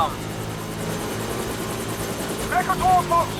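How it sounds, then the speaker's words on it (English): A helicopter in the James Bond 007: Blood Stone video game, heard as a steady rotor drone that holds throughout while a voice briefly speaks over it near the end. "Helicopter inbound."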